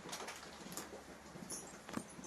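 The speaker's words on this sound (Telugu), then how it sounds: "వర్షం పడుతుంది" Rain falls steadily outside a home in the morning, a faint, even patter throughout with a few soft drips standing out.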